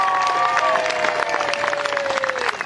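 A crowd applauds after a medieval fighting tournament at an outdoor fair, with sustained clapping and some cheering. A voice runs over the applause at first.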